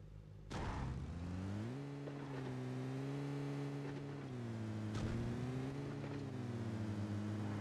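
Steady, droning car engine heard from inside a moving vehicle in PUBG Mobile, with a thump at the start, then a continuous hum that rises and falls slightly in pitch as the car drives.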